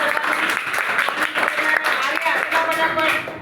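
A room of schoolchildren clapping for a classmate: lively, uneven applause from many small hands, close and sustained, with voices mixed in.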